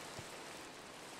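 Steady hiss of falling rain in the game Minecraft, a dense even wash with no voices, continuous and fairly soft through the whole moment.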